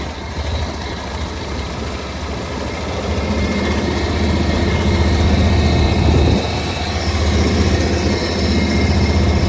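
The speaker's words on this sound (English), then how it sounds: "This is actually a very nice, smooth running Vanguard in it." A 1978 John Deere 400 lawn tractor with a Vanguard engine idles smoothly and steadily, a loud close low rumble with a slight swell midway and no talk over it.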